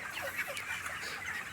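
Broiler chickens about 38 days old clucking together inside a Tamil Nadu chicken farm, a dense, continuous chorus of overlapping calls at moderate distance.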